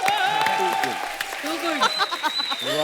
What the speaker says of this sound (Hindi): देखो जरा तालियां होनी चाहिए